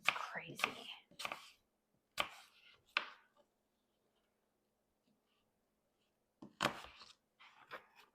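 Knife chopping apples on a cutting board for an apple cranberry pie: a few sharp, close cuts in short clusters with quiet pauses between them.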